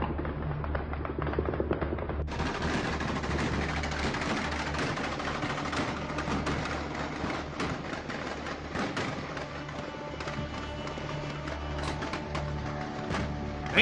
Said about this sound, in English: Y'all hear that gunshot? Gunshots?